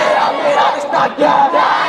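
A large crowd roars out a slogan together at a political speech rally, voices surging in loud rhythmic bursts with brief dips between shouts, close and dense.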